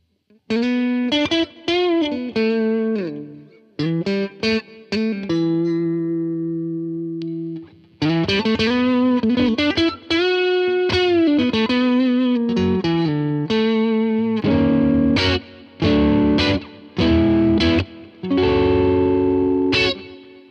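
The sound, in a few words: electric guitar through overdrive pedal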